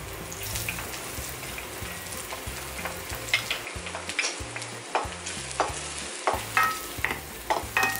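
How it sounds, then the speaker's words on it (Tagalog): Garlic sautéing in a pan for Filipino ginisang gulay with beans, a steady close sizzle and fry broken by scraping stirs and utensil clinks, with some watery running sound behind. "Yung pag nagigisa ka ng onions and garlic."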